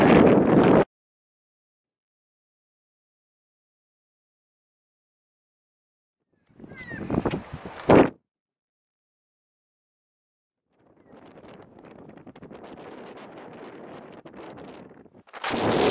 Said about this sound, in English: It's a really chilly wind out here.